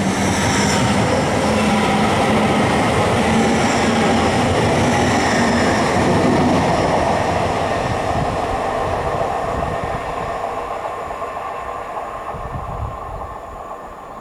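A train roars past at Grantham on the East Coast Main Line, loud and close with a steady rumble and rattling wheels that slowly fade over about fourteen seconds, no voices.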